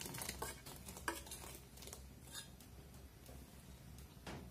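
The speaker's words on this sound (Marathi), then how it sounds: "आता हे व्यवस्थित हलवून घ्यायचं आपल्याला, खवा त्याच्यामध्ये विरघळून घ्यायचा आहे" A spoon stirs khoa into boiled milk in a pot, giving faint scraping and clinking with a soft simmering hiss underneath, quiet and close, with no talking.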